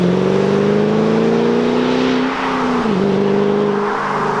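A 2008 Ford Mustang Shelby GT500 engine pulling hard under acceleration, a loud steady droning roar rising in pitch, briefly dipping at a shift, then climbing again, heard from inside the car.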